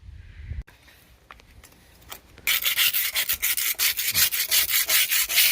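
A saw cuts through the rotten end of an old weathered board with a loud, harsh, pulsing rasp. It follows a few seconds of quiet handling and light knocks.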